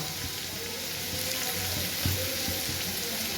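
Ground chili powder hits hot mustard oil in a pan for a Bengali aloo posto, giving a steady, close, loud sizzle with a faint crackle throughout and one brief louder pop near the middle, with no talking.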